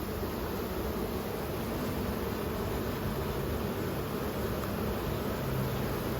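Honeybees drawing comb inside a hive, nine weeks after the colony was started, give a steady dense hum that stays even and close throughout with no pauses.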